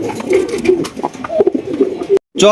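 Blue satin pigeons at a pigeon seller's coop coo repeatedly in soft, throaty bursts, close and fairly loud, with a faint voice mixed in.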